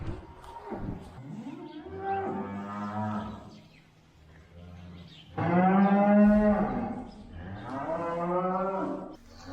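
Cattle moo in several long, loud calls with pauses between them, close by on a farm where a cow is calving.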